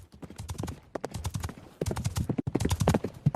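Horse hooves clip-clopping in a fast, steady rhythm, loud and close, filling the whole stretch with dense repeated strikes and no speech over them.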